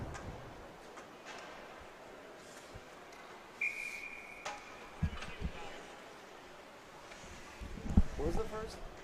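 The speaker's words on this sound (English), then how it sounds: "And a whistle and a stoppage of play" A referee's whistle halts play at a youth U14 hockey game, one short, clear, high blast amid arena crowd noise, stick clacks and puck thuds, with a commentator talking throughout.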